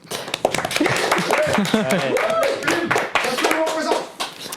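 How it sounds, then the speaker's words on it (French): A small group clapping hands at an evening talk on visual art in cinema, irregular claps mixed with lively voices and someone speaking, close and fairly loud for a few seconds. "Pour de vrai, on applaudit."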